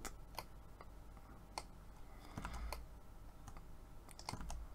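Computer keyboard keys pressed for a Ctrl D shortcut during a Unity 2D tutorial, a few faint, sharp clicks and taps spaced irregularly over quiet room noise.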